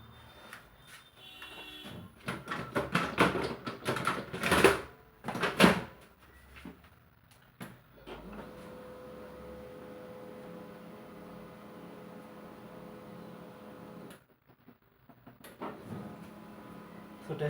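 A laser printer fitted with a refilled PC261 toner cartridge starts with a series of loud mechanical clunks and rattles. A steady whirring feed follows, then a brief pause before the motor resumes.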